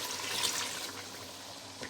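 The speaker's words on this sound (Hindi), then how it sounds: "यहाँ मैं ये पानी डाल दूँगी," Water pours into a cooking pot of meat and lobia beans, roughly one and a half cups, giving a steady splashing, gurgling stream that is fairly quiet and continuous, with a small splash near the end.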